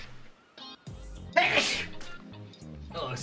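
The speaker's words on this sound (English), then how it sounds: "I have to sneeze again." A single loud, sharp human sneeze bursts out midway, surrounded by someone talking and faint game sounds in the background.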